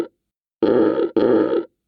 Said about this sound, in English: There is a bear in the cave.